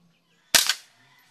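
A suppressed M4 .22LR rifle fitted with a Chiappa silencer fires a single sharp, close crack that decays quickly into quiet.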